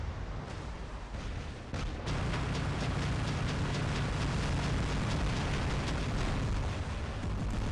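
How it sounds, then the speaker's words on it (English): Robot weapons fire and explosions roar in a War Robots team deathmatch, a dense, loud, continuous barrage of booms and blasts with overlapping shots and no talking. "See some weapons popping off. More weapons, and he is out."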